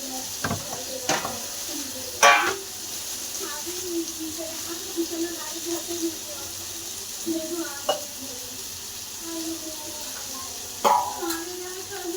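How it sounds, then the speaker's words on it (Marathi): Onion frying in a pan until red, with a low, steady sizzle broken by intermittent spatula scrapes and clinks against the pan, nearby and moderately loud. "कांदा चांगला फ्राय करून घेतो लाल होईपर्यंत"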